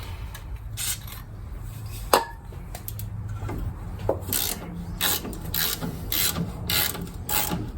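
A ratchet works on a stubborn axle nut on a 1997 Honda Civic during a right axle replacement, producing repeated raspy clicking strokes in short bursts, close and fairly quiet, with a couple of sharper knocks.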